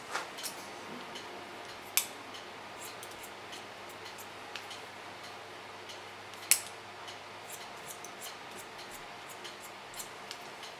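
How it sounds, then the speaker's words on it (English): Scissors snip hair during a short pixie haircut, a series of quiet, crisp irregular clicks with a few sharper cuts over a faint, hushed room background. "Continue on the line of cutting."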